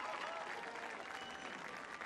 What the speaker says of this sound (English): Please give a large round of applause to our alumni band director, Mrs. Kathy Peretz.